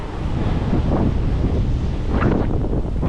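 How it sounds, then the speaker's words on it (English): Gusty wind buffets a microphone on a bike ride along a country lane, a loud continuous low rumble that swells and eases throughout. "it is a bit windy"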